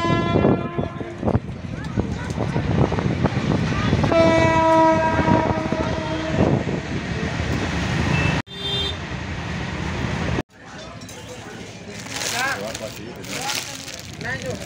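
A train runs along the railway line beside Narayanpur market in Mirzapur, its loud rumble and wheel noise continuous with a horn sounding in steady tones midway, cut by brief gaps and followed by busy open-air bustle.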